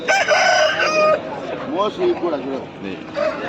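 A red rooster at a large Sunday market in Pileru lets out one loud, close crow at the start, followed by clucking and other fowl calls amid market voices.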